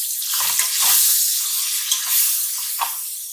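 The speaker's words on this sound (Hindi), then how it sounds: "इसको 2-3 मिनट के लिए भूनेंगे।" Ground cardamom, clove, cinnamon, black pepper and cumin roast in a hot pan for green chana pulao, giving a loud continuous sizzle with a few spoon scrapes and brief bursts.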